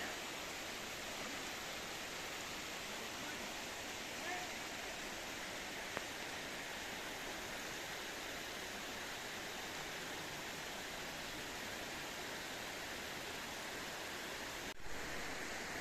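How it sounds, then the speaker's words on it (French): A powerful, steady roar of water gushing out of a mountainside in the Vallée perdue near Val d'Isère, a dense unbroken rushing that fills the whole clip with no talking. "on voit là la force de l'eau qui sort de la montagne"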